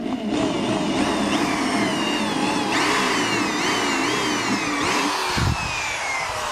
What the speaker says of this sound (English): drill our second hole